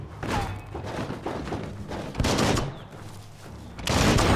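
An exploding barrel in the video game Biomutant blows up under gunfire, heard as a dense burst of heavy thuds and blasts with a second big boom near the end, loud and chaotic with no speech.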